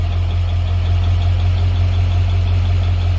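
A 7.3 diesel engine idles steadily just after startup, a loud, even low rumble with a constant mechanical clatter and no pauses or voices throughout.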